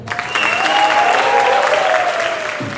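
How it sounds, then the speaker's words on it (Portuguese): An audience applauds after a student's research presentation at a Unesp university event, a short burst of clapping that swells quickly and holds for a couple of seconds before fading. "foi bastante aplaudida"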